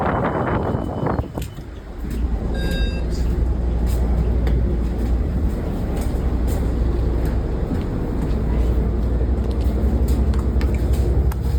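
On board an MBTA route 1 city bus, a low engine rumble and road noise drone steadily inside the cabin, with faint rattles and brief clicks scattered on top.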